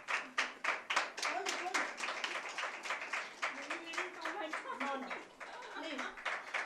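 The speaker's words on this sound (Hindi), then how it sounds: "Let's welcome her with a huge round of applause" Applause and clapping from an audience welcoming a special guest at a Women's Day celebration, a steady patter of many hands throughout with some voices mixed in.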